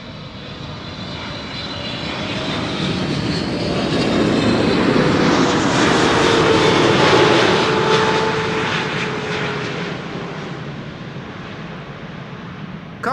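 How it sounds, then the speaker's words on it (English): An Emirates SkyCargo Boeing 747 cargo jet arrives at Amsterdam Schiphol, its loud engine roar swelling as it passes near and then slowly fading, heard alone without talk. "This is Emirates Sky Cargo arriving from Aguadilla."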